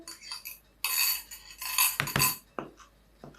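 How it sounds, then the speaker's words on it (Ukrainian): An egg mixture is stirred into flour for varenyky dumpling dough made with boiling water, giving busy metallic clinks and scrapes of a utensil against a bowl, close and fairly loud in short bursts. "Тепер яєчну масу виливаю в тісто і в борошно вірніше."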